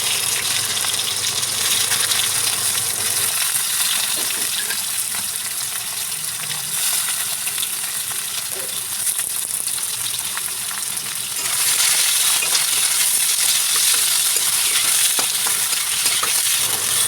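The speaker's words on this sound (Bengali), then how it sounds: "পেঁয়াজটা লাল লাল করে ভেজে নিয়েছি" Chopped onions fry in oil with dried red chilli, bay leaf and whole cumin for chickpea ghugni, a loud, continuous close sizzle with stirring, swelling a little toward the end, no one speaking.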